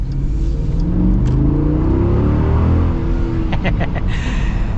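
A V8 engine roars as a Jeep Grand Cherokee SRT accelerates hard, a loud steady revving rise with tire and road noise throughout and some faint background chatter.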